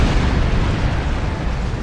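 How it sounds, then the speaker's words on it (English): Detonating charges go off in the Star Trek Online game as a loud, continuous explosive roar that fills the short stretch with dense rumbling noise and no distinct separate blasts. "Detonating charges."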